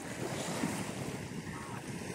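Sea waves surge and wash along the Konkan coast of Maharashtra near a clear-water white-sand beach, a steady close roar of surf mixed with wind buffeting the microphone, with no voices.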